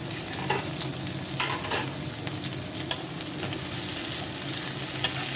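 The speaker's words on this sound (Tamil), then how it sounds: "கொத்தமல்லியை சேர்த்து ஒரு ரெண்டே நிமிஷம் தான் வதக்கிக்கணும்" Chopped coriander leaves sautéed with onion in a pan for a coriander-onion thokku, a steady close sizzle broken by several sharp spatula scrapes and taps.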